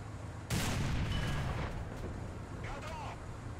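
A tank cannon fires a long-range 1200-meter shot in War Thunder, a single loud boom that rolls into a fading rumble, followed by faint mechanical clicks.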